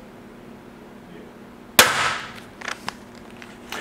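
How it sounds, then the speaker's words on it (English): An Excalibur RevX crossbow fires a 350 grain bolt through a chronograph: one sharp, loud snap of the string followed by a brief decaying rattle, then a few faint clicks. "we're actually going to shoot this thing through the chronograph and see what kind of speeds we're getting with this 350 grain bolt"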